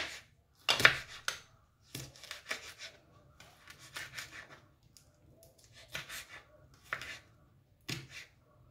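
Egg whisked in a bowl for a cheese and carrot omelette: close, quiet bursts of quick clicking and tapping strokes with short pauses between, no talking.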